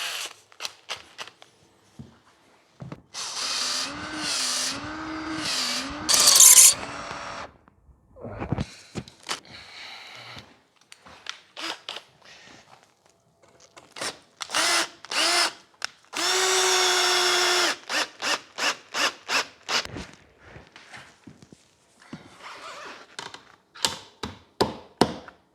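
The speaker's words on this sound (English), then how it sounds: "Pre-drill with a long 3 mil bit first." A power drill drives a long 3 mm bit into a wooden post for a hand-built baby gate, with several loud whirring bursts of varying length. Short taps and knocks fall between the bursts, and no one speaks.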